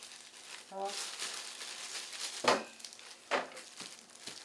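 Thin plastic vinyl gloves crinkle and rustle as they are pulled on while making rice cake, a few sharp crackles standing out from quiet handling noise.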